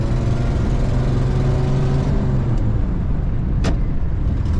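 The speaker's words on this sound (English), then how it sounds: "Wait till the RPM comes down and go to the next gear." A 1935 Chevrolet Standard Sedan with a manual transmission runs steadily, its engine droning loud and close as the revs fall away during a gear change, with a brief whooshing swell near the end.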